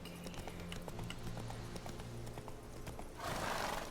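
Roach, the horse in The Witcher 3, galloping with a rapid clip-clop of hooves over ambient game sound, then a loud whooshing burst near the end.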